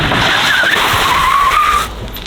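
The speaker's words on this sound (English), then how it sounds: "You're gonna accelerate really fast and slide." A car from a high-horsepower collection accelerates hard and slides, tires squealing in a loud sustained skid up close that cuts off abruptly.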